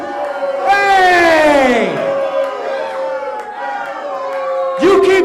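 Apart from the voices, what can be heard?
crowd booing a wrestler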